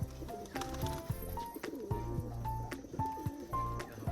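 Domestic pigeons, including a crested fancy pigeon, cooing in soft repeated low calls close by, with other bird chirps and faint background noise.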